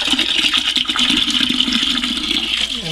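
Water rushes steadily into a 1.6 gallon toilet as it refills, a close, loud continuous hiss and gurgle with no pauses, no voices over it.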